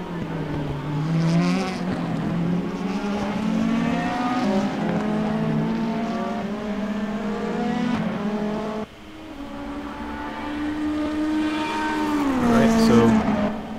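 Race car engine howling through a lap in a sim racing game, a steady high-revving drone with rising and falling pitch through gear changes and corners, loud and continuous with no pauses.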